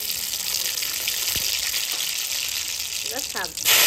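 Poppy seeds and greens with dried red chilli sizzle in hot oil in a wok, a steady broadband hiss of frying throughout, ending in a sudden louder burst as more goes into the pan.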